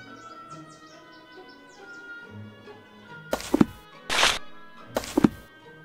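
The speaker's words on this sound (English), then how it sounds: "Based on this bird book, it is a Lammergeier." A few sharp, loud lammergeier calls ring out in bursts over a quiet ambient background of faint chirps and a soft musical drone in the video game Sherlock Holmes: Nemesis.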